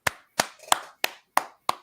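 Hands clap six times in a steady, fairly quick rhythm, each sharp and close with a short room tail, with no talking.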